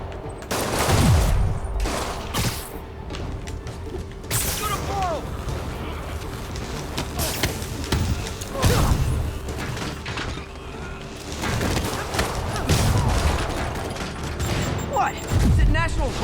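Rockets fired at Spider-Man in Marvel's Spider-Man on PS4, a series of sharp blasts and whooshing bursts spread across the clip, with metallic clanks and combat noise in between.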